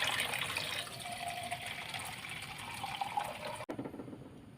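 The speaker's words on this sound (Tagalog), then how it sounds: "Lagyan natin ng tubig" Water poured onto basmati rice in a pot, a steady close gushing flow that continues for several seconds and then cuts off sharply, followed by a quieter trickle.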